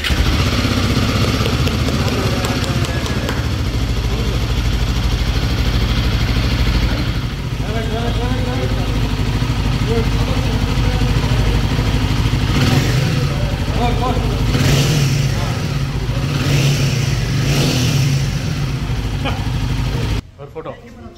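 A Royal Enfield Himalayan 450 motorcycle engine runs loud and close throughout, with several throttle blips rising and falling in the second half before cutting off near the end; people talk over it.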